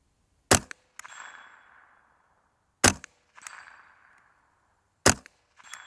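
.22LR rifle shots ring out against small 3-inch steel targets at 100 yards, three sharp cracks, each followed a moment later by a metallic ping that trails off, evenly spaced with quiet gaps between.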